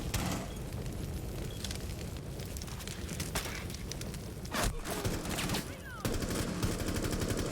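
Gunfire in a Rainbow Six Siege match: steady distant-sounding shots and bursts crackle through a dense, noisy mix, with a few sharper reports standing out among the continuous din.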